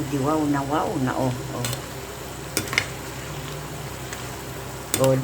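Home-cooked dish frying in a pan in a kitchen, stirred now and then with a few sharp scrapes and clinks, steady sizzle throughout, with a person talking over the cooking.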